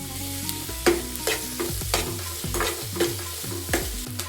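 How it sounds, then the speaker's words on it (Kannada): Onions being fried and stirred in a pan for a tomato onion curry, with a soft steady sizzle broken by repeated spatula scrapes and knocks at a fairly even pace, close by and without speech. "ಇವಾಗ ಈರುಳ್ಳಿ ಫ್ರೈ ಆಗಿದೆ."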